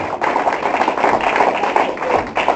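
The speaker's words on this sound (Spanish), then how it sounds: "Denle un aplauso al Señor, hermano" Congregation applauding in a church service, a steady dense wash of many hands clapping throughout, fairly loud and continuous with no pauses.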